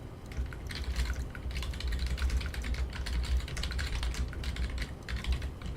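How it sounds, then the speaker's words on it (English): Keys clatter on a computer keyboard in a steady, fast typing run that lasts the whole stretch, close by and fairly loud, with no talking over it. "This is where I'm going to type something."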